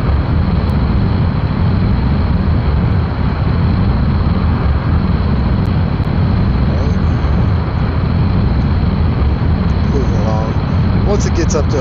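Jet engines of a spaceplane roar in the video game Kerbal Space Program, a loud, constant, dense engine rumble filling the whole stretch without letup.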